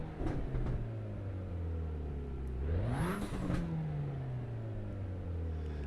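Car engine in the racing game Assetto Corsa Evo, traction control off, revving hard: a steady drone climbs to a sharp peak near the middle, then drops back and settles, loud and close with no talk.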